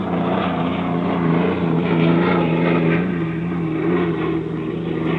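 A racing hydroplane roars steadily as it accelerates during the 1964 Seafair time trials in Seattle, a continuous droning engine heard at some distance, with no talk.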